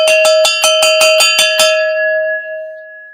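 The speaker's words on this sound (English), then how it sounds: "here's everybody's cowbell for the night." A run of about eight quick, bright metallic strikes on a cowbell-like instrument in a livestream setting, evenly spaced, then a sustained ringing tone that slowly fades out, with no talking.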